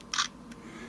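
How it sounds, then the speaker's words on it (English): Panasonic FS7 compact camera firing its shutter with flash: a single sharp mechanical click followed by a softer second tick, close and quiet over a faint hum. "to make sure the flash works, you just hit that with your shutter."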